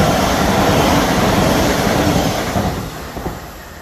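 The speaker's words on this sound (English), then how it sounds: "And a train, I caught the train." A train passes close by in a loud, steady rush of rolling wheels and rail noise that gradually fades as it moves away, with no talk.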